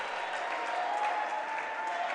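A crowd applauds steadily at a men's basketball grand final, a soft, even wash of clapping from a distant indoor audience, sustained without pause.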